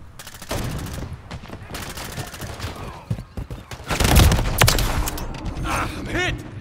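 Call of Duty gunfire crackles in dense bursts of rapid shots, building to a louder blast and heavy rumble midway, with game voices and other effects mixed in.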